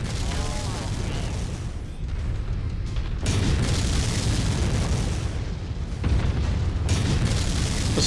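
Missile barrages in the video game MechWarrior 5 produce a sustained, heavy rumble of blasts and booms, loud and continuous with abrupt shifts in intensity, layered over a roaring battle din.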